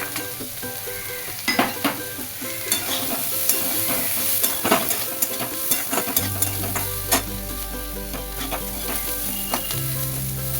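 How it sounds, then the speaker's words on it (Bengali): Diced potatoes and corn fry in a pan for poha, a steady close sizzle with repeated clinks and scrapes of a spatula stirring throughout. "আলুগুলোকেও খুব ছোটো ছোটো করে কাটা, দেখো এটা কিন্তু ভাজা ভাজা হয়ে এসছে"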